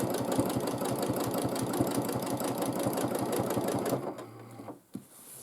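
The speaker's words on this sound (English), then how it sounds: "I actually should quilt it here in the ditch as well." Sewing machine quilting in the ditch, running loud and close with a fast, even stitching chatter for about four seconds before it winds down and stops with a small clunk.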